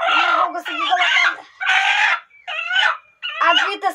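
A hen held by the wing in a henhouse lets out loud, close, agitated squawking clucks in four or five quick bursts separated by brief gaps.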